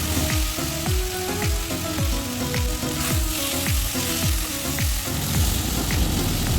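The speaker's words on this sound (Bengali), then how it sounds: "এখন আদা বাটা, জিরা বাটা এবং কাঁচা লঙ্কা বাটা দিয়ে ভালোভাবে কষিয়ে নেব।" Tomato sautés in hot oil with ginger, cumin and green chili paste, a loud, continuous sizzle broken by regular scraping strokes of a spatula stirring the pan.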